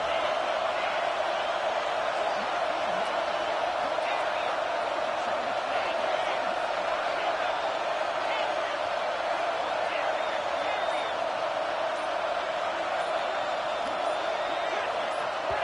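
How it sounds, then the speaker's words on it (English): A home crowd at a college football game keeps up a steady, dense roar throughout the stadium, with a broadcast commentator's voice over it. "this home crowd is fired up and ready to make a difference today"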